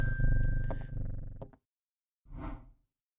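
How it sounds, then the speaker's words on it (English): A bell rung in the video game Strange Horticulture, a short tonal ding with ringing overtones that fades, followed after a pause by a second brief chime, with no talk. "Ring the bell."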